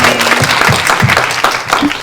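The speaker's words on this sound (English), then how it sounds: "big round of applause for everybody up here" An audience applauds a panel at the close of an evening session on leadership development programs, steady clapping mixed with a few voices in the room.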